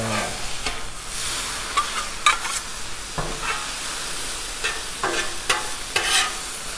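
Chicken frying in oil on a Blackstone griddle, a constant hissing sizzle broken by uneven scraping and tapping of a spatula across the hot flat-top.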